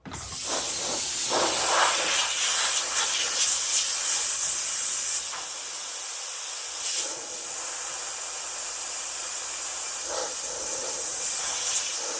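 Spray paint hissing onto a door of a 1972 VW Super Beetle, a loud steady spray for about five seconds, then a softer continuous hiss with brief pauses, close by.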